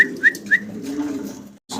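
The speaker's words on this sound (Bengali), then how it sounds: "জি ভাই, মডার্না কবুতর।" Modena pigeons call with a few short bright chirps at the start, then a low, soft, continuous cooing murmur that cuts off briefly near the end before resuming.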